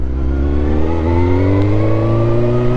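A motorbike engine running with a loud, steady, deep throbbing drone that rises slightly in pitch, close by and continuous, with no voices.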